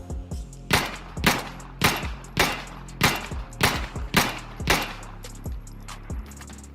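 Pistol shots from an insurgent sidearm in the video game Insurgency: Sandstorm, about nine sharp, loud reports fired one by one at a steady pace, each with a short ringing tail.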